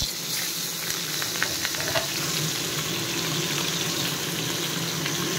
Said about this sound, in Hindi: एबे माछ को गोटे गोटे पकईकी भाजिबा